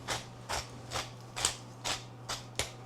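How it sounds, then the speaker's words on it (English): Pepper mill grinding black pepper: six or seven evenly spaced gritty crunching twists, close and fairly quiet, over a faint steady hum. "a generous grinding of pepper"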